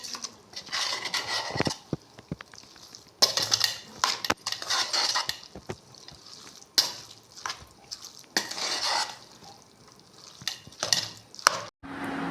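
A pot of Kerala jackfruit erissery stirred and set with a spoon, giving bursts of scraping and clattering against the metal in uneven runs, loud and close with brief pauses between, no talking.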